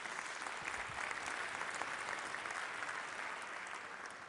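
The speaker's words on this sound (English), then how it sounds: "I want you to give him a round of applause." A lecture audience in St. Paul gives a steady round of applause, a dense, even patter of many hands at moderate distance with no talk over it.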